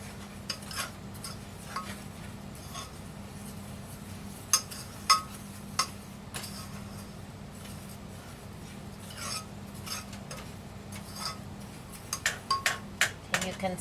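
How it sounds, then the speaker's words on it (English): Sugar for flan caramel being stirred in a pan, heard as soft scraping and rubbing with scattered utensil clinks, a cluster of sharper taps near the end, steady and fairly quiet. "I can see the sugar starting to melt now, so you want to just keep stirring it"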